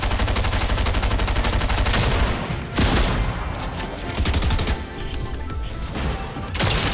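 Dense, rapid gunfire from a Fortnite Arena match rattles almost continuously, with overlapping bursts of shots at close range and a few brief dips in intensity.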